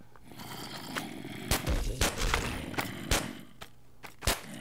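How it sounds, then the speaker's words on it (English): Shotgun fire in the Minecraft Zombiecraft mod, a Call of Duty style zombie game mode, with several sharp loud blasts spaced irregularly over busy game noise. "It's pretty handy to have a shotgun"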